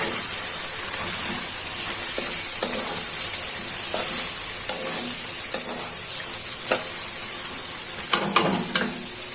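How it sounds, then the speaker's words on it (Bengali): Desi chicken pieces fry with tomato in a pan for a bhuna curry, a steady loud sizzle throughout with occasional scrapes and clicks of stirring. "টমেটো দিয়ে 10 মিনিট ভুনা করে নিব।"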